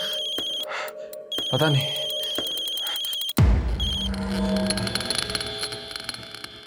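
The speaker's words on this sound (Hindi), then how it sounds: "किसका फोन था?" An electronic ringtone trills with steady repeating tones, then cuts off into a burst of noise and rustling, with a brief voice near the end.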